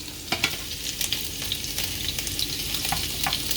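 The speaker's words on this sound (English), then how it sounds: "And now we saute this." IKEA meatballs sautéing in a pan, a steady close sizzle with frequent light clicks and taps as they are stirred and turned.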